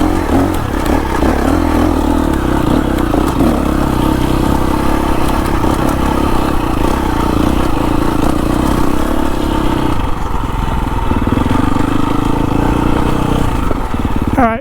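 KTM XC-F 350 trail bike riding downhill in first gear over rocks and branches, a continuous loud engine drone with clatter and scraping from the terrain, steady throughout and no talking.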